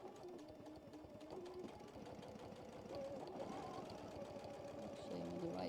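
A sewing machine stitches across quilt fabric with a steady, rapid mechanical chatter close by, running continuously while a person talks over it.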